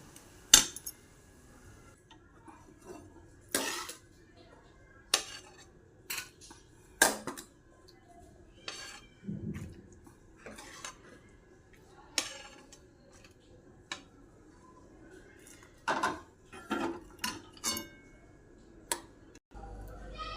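Steel plates and cutlery clink and tap in scattered, sharp bursts as a home-cooked field bean curry is served onto a plate in a quiet kitchen. The clinks are separated by pauses.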